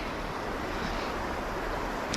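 Fast-moving river current on a cold day rushing as a steady, loud broadband roar that holds unbroken throughout, with no voices.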